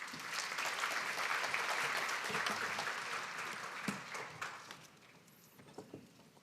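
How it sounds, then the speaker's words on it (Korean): Applause from the audience at a Cisco data center summit welcoming a presenter to the stage for a live demo, a dense burst of clapping that tapers off into a few scattered claps toward the end. "큰 박수로 좀 맞이해 주십시오."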